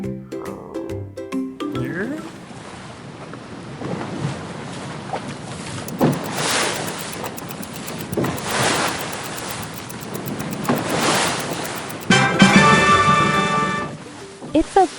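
A boat moves across water, with surging washes of wave and wake that swell and fade repeatedly. The sound grows busier and louder toward the end, and no one speaks.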